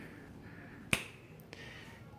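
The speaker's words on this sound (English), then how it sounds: "I'm going to snap my fingers" A single crisp finger snap cracks out sharply at close range partway through, followed by a fainter click, set against a quiet room.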